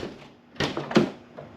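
The door of a Porsche 911 (991) is opened from inside by its door pull: two quick mechanical clunks close together, the latch release and the door popping open, close and moderately loud in a quiet cabin.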